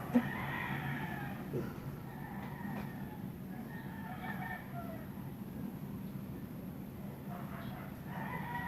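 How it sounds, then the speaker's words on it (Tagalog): A rooster crows a few times at a distance, faint over a low background hum and scattered soft noises. "marinig natin mga manok"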